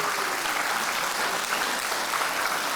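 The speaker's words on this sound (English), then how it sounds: "Let's give that a round of applause" A conference audience at a sustainability session in Manila gives a steady, dense round of applause that holds at an even level throughout, fairly close and continuous with no pauses.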